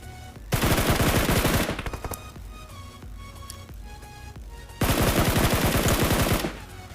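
Rapid automatic gunfire from the PUBG Mobile battle royale game, two loud sustained bursts separated by a quieter stretch of scattered in-game sounds.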